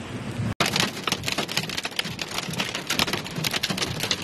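Hail pelts down during a Saturday-night storm in Saudi Arabia, a dense, loud, continuous patter of hard impacts with no talking.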